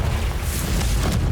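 A fiery Confringo spell explosion in the Hogwarts Legacy video game, a loud, continuous booming blast with rumbling low end and crackling bursts throughout.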